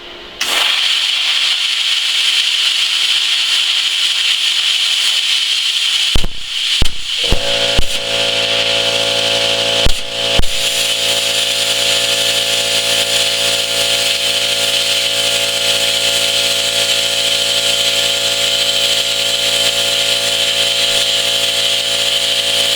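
A Cut 50 plasma cutter runs at 30 amps, cutting 1/8 inch 6061 aluminum with a loud, steady hiss and buzz. A few sharp pops come early on, and no one speaks.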